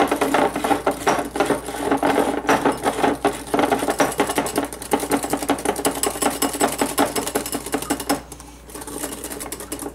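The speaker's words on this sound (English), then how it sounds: "I'm going to add this 1/4 cup of sugar to these 3 yolks. And whisk it." A whisk beats sugar into three egg yolks for pastry cream, a dense run of quick rhythmic clicks and scrapes against the bowl, steady and close throughout with no talking.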